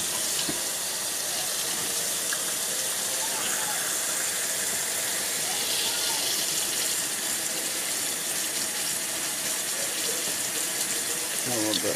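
Tap water running steadily through a Brita water filter in a park, a loud continuous hiss and splash close by, unbroken for the whole stretch.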